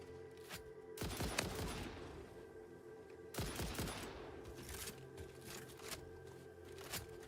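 Gunfire from shooting hostile creatures in the factory-building game Satisfactory, two sharp bursts of rapid shots with scattered single reports between them, moderately loud against a steady background hum.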